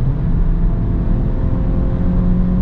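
A 180 hp Peugeot 3008 in sport mode accelerates, its engine a loud, steady, close drone with road rumble that holds for the whole stretch, with no talking.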